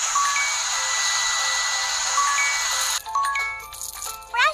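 A hair dryer in a salon video game blows with a steady, bright whooshing hiss, joined by short electronic chimes, before it cuts off and gives way to sparkly game jingles and effects.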